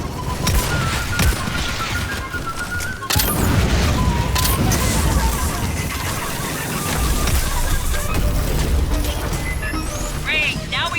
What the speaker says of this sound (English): Must have heard the gunfire.